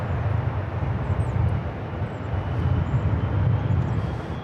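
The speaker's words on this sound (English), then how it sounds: "That was American Airlines coming in from SFL, a 737 MAX 8, flight 2098." An American Airlines Boeing 737 MAX 8 arrives at Los Angeles International Airport with a steady, broad jet-engine roar. The roar is moderately loud, sustained and slightly rising and falling, with no voices.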